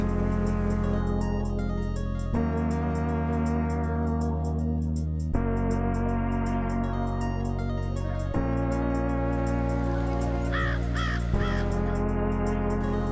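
American crows caw in harsh, repeated bursts from several directions, layered over a steady background hum, with a cluster of rapid calls near the end.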